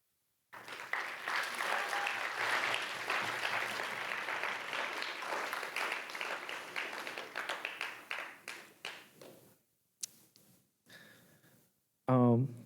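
A school audience at a Writers Week reading breaks into sustained, dense applause that gradually thins into scattered claps and fades. A short burst of noise follows at the very end.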